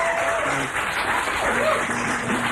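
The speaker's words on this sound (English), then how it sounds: "Give him a round of applause." A studio audience applauds Alan White, tambourine and beanbag-chair player, in a live radio living-room session; moderate clapping continues steadily for a few seconds with faint background tones.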